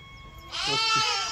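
A single loud, wavering bleat from a sheep, rising abruptly after a quiet moment and lasting about a second, close by.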